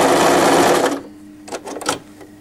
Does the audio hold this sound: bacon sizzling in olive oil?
no